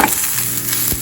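Onion sizzles in a pan with a short, steady crackle, close and moderately loud, with no voices.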